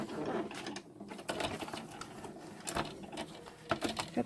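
A domestic sewing machine stitches doll fabric forward and back in short bursts, a close rapid mechanical chatter with brief pauses between runs.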